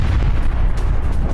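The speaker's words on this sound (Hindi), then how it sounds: "हाइफा में गैस प्लांट पर ईरान का ये मिसाइल अटैक, ये देखिए।" Missile strike on a gas plant in Haifa, heard as a dense, continuous low rumbling roar of explosion and fire, loud and sustained, with no distinct individual blasts and no talk.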